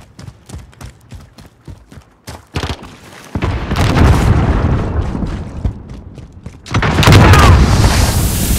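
A rocket launcher explosion in Call of Duty: Modern Warfare team deathmatch: after a stretch of scattered sharp impacts, a loud, sustained roaring blast erupts and rumbles for several seconds, then swells again with a second heavy burst.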